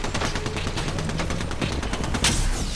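Rapid automatic gunfire in Apex Legends, a dense burst of close, loud shots in quick rhythm running nearly the whole time, ending in a sharper, heavier blast near the end.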